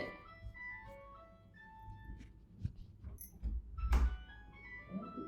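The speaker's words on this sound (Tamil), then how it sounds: "எடுத்துக்கோ, ஃபோன் அடிக்குது." A mobile phone rings nearby with a melodic, chiming ringtone of stepped tones, and a few soft thuds and a louder knock break in toward the end.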